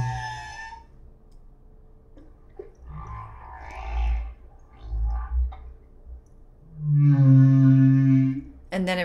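Humpback whale song heard in a recording, with a rising whine-like call among scattered low grunts and moans, then a strong, sustained tonal cry near the end over quiet underwater background.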